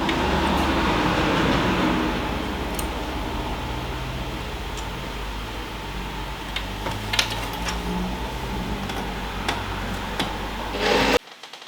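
A sewing machine stitches across the bottom of a fabric tote bag, a steady close mechanical whir with a few light clicks, running continuously before cutting off abruptly near the end.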